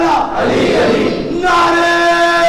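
A crowd at a majlis gathering at Rizvi College, Mumbai, chants religious slogans in unison, the voices swelling into a sustained, drawn-out shout in the second half; loud and close, with no separate speech.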